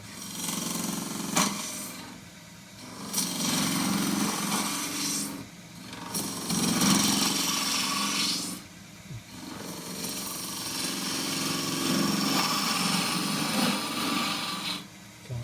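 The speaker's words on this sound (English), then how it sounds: "I'm now going to come up here and turn this with the spindle roughing, with the spindle gouge, 1/2 inch spindle gouge." A 1/2 inch spindle gouge cuts end-grain wood for a bowl on a spinning lathe, a sustained rough shearing hiss with a motor hum underneath. The cutting eases off in a few brief gaps between passes.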